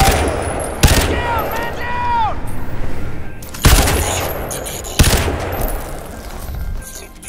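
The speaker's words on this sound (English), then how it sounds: "Incoming fire" Bursts of gunfire ring out in the shooter game Crysis 2, several loud sharp shots spaced a few seconds apart over a busy backdrop of game effects and tonal electronic sweeps.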